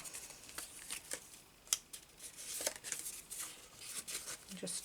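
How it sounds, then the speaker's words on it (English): Craft paper or similar material being folded and creased by hand, close, soft crinkling and rustling in several short bursts, heard alone. "So I'm going to just fold it there."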